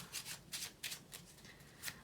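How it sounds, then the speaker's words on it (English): A deck of playing cards being shuffled by hand during a beginner mentalism card trick, giving a quiet run of soft riffling and rubbing bursts, several brief flurries, close and without speech. "Now my spectator can go ahead and shuffle the deck just like this, as much as they want to."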